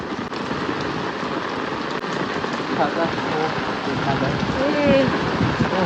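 Steady rain pours down in a dense, continuous patter, with faint voices murmuring in the background.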